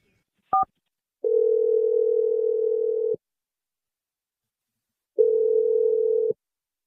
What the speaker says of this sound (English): I'm dialing it right now.